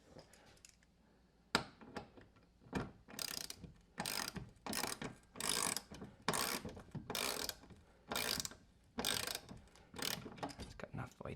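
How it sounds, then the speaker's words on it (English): A socket ratchet turns a bolt while a TV is mounted on a wall, giving repeated close bursts of rapid clicking in a steady stroke-by-stroke rhythm, about a dozen pulls with short pauses between them. "get this socket going."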